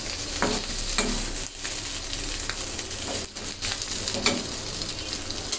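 Sardine fish fry in hot oil on a stove for a sardine mash, giving a steady, dense sizzle and crackle throughout, with a few soft stirring scrapes and no talking.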